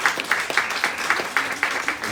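An audience claps at a book presentation, with a fairly rhythmic run of hand claps over a dense, steady wash of applause.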